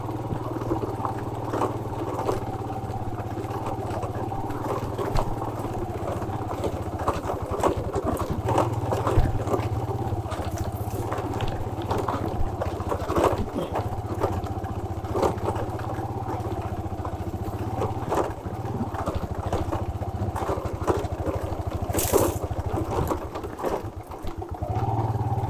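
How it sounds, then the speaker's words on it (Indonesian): Motorcycle with a racing setup on a dirt road in rural Sukabumi, its engine clattering and buzzing at moderate distance with a steady mid-pitched drone and rough irregular bursts across the whole stretch. "Ada motor ya, motor setelan racing tuh."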